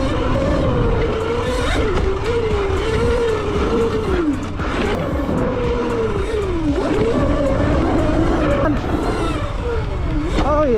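An ETM RTR motorbike laps a track at full throttle, its loud engine rising and dropping in pitch through repeated gear changes and corners, close and continuous with wind noise throughout.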